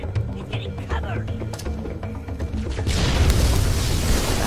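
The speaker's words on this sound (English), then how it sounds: "It's kind of sad that we're blowing up an entire base." A whole base blowing up in Halo 3, a deep rumbling boom that swells into a loud, sustained roar of blast noise in the final second and a half, following busier game sounds.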